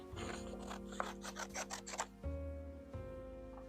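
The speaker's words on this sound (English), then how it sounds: "I'm going to cut off another rectangle." Scissors cut a rectangle of paper for abstract winter-tree art, a run of quick snipping and crisp paper noises up close, followed by a low hum with a few faint clicks.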